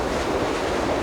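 A gale off Iceland drives a constant roar of wind and crashing ocean waves, loud and close, with a dense, unbroken hiss and low rumble throughout.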